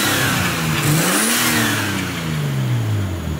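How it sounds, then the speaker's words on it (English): Nissan R32 Skyline revving through its exhaust, the engine note rising and falling in one rev with a broad hiss that may be the turbo blow-off, loud and close, no talk. "We can probably hear the blow off now."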